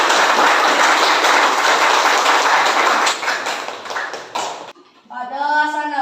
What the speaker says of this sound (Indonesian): sekarang kita akhiri dengan tepuk tangan